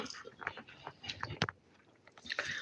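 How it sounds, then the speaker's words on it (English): Gum being chewed close to the microphone, soft wet smacking and clicking sounds repeating at an irregular rhythm, quiet and alone. "I'm chewing some gum"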